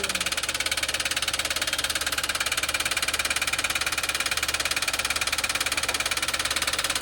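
A Toyota Wigo engine running with a steady, rapid metallic knock, an even rhythmic ticking and rattle over a constant idle drone, close and loud with no talking.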